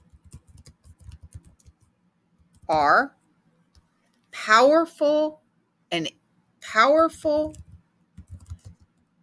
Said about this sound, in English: So I would just keep typing now.